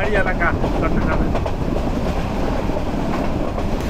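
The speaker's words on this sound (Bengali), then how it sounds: "সামনে ভাটিয়ারি রেলওয়ে স্টেশন, এখানে থামবে ট্রেন, স্লো হয়ে গেছে তো" A train slows toward Bhatiary railway station in the hilly Chittagong area, with a loud, steady rumble and rattle of carriages on the track up close and a faint squeal at the start.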